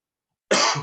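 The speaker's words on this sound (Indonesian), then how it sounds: "Mister lagi batuk nih" A single short, sharp adult cough bursting out after half a second of silence, close and fairly loud.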